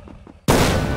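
A single loud, close gunshot in the Bigfoot video game bursts out of near silence and leaves a thick, sustained roar ringing afterward.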